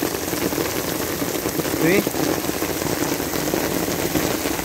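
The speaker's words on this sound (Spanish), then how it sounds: "está lloviendo" Rain falls steadily at dusk in Hermenegildo Galeana, Puebla, a dense close patter on surfaces throughout, with a brief spoken word partway through.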